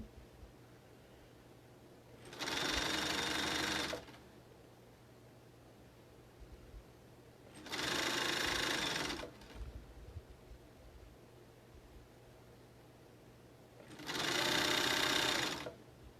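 A sewing machine stitches a fabric mask in three separate runs of a second or two each, a steady whirring hum broken by quiet pauses in a calm room.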